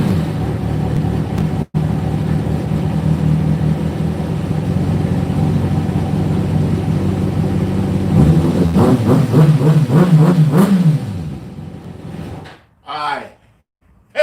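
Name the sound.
motorcycle engine starting and revving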